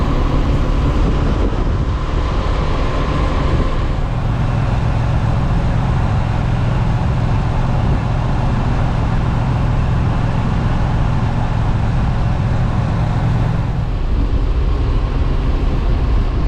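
A 2023 Honda CB500X adventure motorcycle with a 471cc parallel twin engine and six-speed gearbox, riding at speed. There is a loud, continuous engine drone mixed with heavy wind rush, and the engine note swells in the middle.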